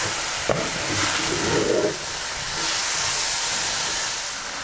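Onions, leek and Landjäger sausage sizzle steadily in a hot Dutch oven, with a brief clink and a louder burst of hissing partway through.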